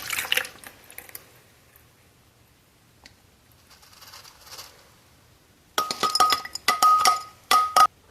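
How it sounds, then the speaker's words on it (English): Water drained off soaked samara seeds, with a light clinking of glass and trickling at first, then louder bursts of splashing and clinking pours toward the end, close by. "So I got my seeds here. They've been soaking overnight. I'm going to drain this."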